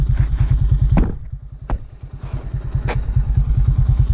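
A basic budget motorcycle engine runs at a steady, rapid idle, close and loud. A few sharp clicks and clatters sound over it.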